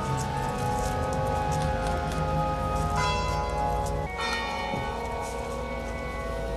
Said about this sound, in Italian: Il feretro arriva al suono delle campane